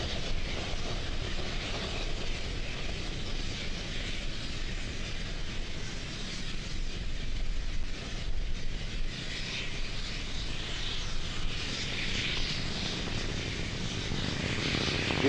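Falcon 9 rocket climbing during the SES-8 launch, a steady, loud broadband roar that holds constant without a break throughout, with no voices heard.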